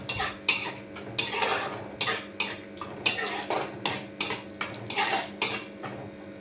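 Mango jelly stirred in a pan on a gas stove: a spoon knocks and scrapes against the pan in quick, regular strokes, close and clear, with a soft background hum and no speech.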